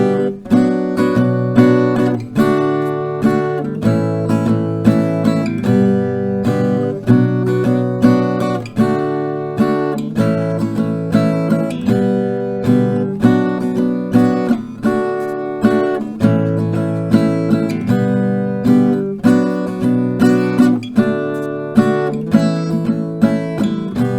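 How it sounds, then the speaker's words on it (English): Acoustic guitar strums the chord progression of a song in a steady, rhythmic pattern, repeating several rounds at a full, even level with no talking. "a couple of rounds of the chords now, and with the strumming pattern will sound like this"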